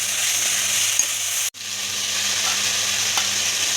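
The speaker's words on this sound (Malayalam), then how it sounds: "അപ്പോൾ തക്കാളി കൂടി ഇട്ട് നന്നായിട്ട് വഴറ്റി കൊടുക്കുക." Onions and tomatoes sauté in a pan for Malabar chicken biryani, a loud continuous sizzle close by, with a brief dropout midway and occasional light stirring scrapes, no talking.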